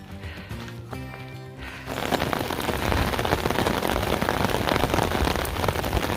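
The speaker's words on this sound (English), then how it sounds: "Now I'm experiencing a torrential downpour." Heavy rain suddenly intensifies into a loud, dense, steady roar of a torrential downpour drumming on surfaces, following a quieter stretch at the start; outdoors on a hiking trail.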